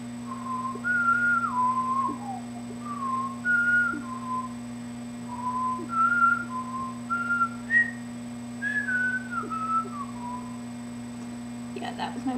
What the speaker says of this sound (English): that was my whistling